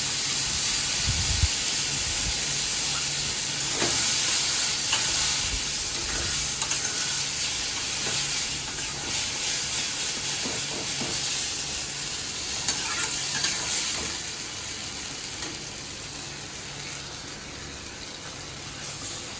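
Spice paste for prawns sizzles and hisses in a hot pan, a loud, steady frying hiss with occasional scraping and stirring clatter near at hand and no talking.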